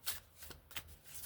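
A Celtic Spirit oracle card deck is shuffled in several quick, crisp riffling bursts, close up and fairly soft, with no talking.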